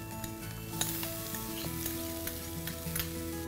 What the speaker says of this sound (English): We need to saute the onion